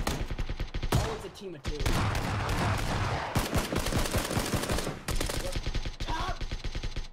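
Gunfire in PUBG, a shotgun run-up during a match: dense bursts of loud shots crowd most of the stretch, with a player talking over the shooting near the end.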